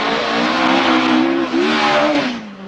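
An Audi rally car races flat out along the Diffnant forest stage in Wales, its engine loud and close as it revs steadily, with one brief dip in pitch partway through before it pulls hard again.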